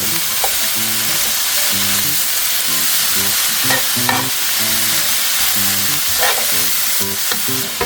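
Honey garlic pork with green onions sizzles loudly in a pan over medium-high heat in oil, a constant hot hiss with repeated scraping stirs, close and with no one talking.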